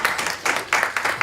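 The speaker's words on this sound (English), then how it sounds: "Give them a round of applause." An audience at a metabolomics closing ceremony gives a short round of applause, a group of hands clapping in quick uneven bursts close by with no one talking.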